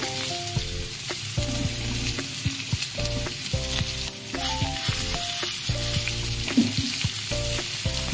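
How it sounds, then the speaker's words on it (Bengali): Potato and pointed gourd pieces fry in hot oil with a steady sizzle, while background music plays throughout and an occasional scrape of stirring cuts in. "আলু আর পটলটাকে একটু ভাজা ভাজা করে নেবো ভালো করে।"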